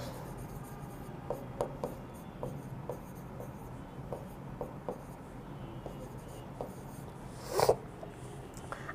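Pen or pencil scratching out a word by hand on paper, a series of short faint strokes over a steady background hum, with one slightly louder scrape near the end.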